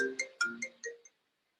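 A melodic electronic ringtone sounds from a phone during a college career and placement seminar, playing a short rising run of about five bright tones in quick succession before it abruptly stops, with no speech over it.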